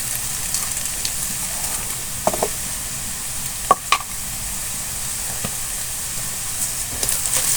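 Green chilli, onion and chopped garlic sizzling in oil, a steady close frying hiss with a few sharp clinks and scrapes of a spoon stirring, no talk.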